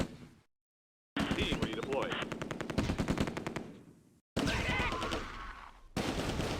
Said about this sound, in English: 1st Platoon opens fire on German troops in Hanna Park.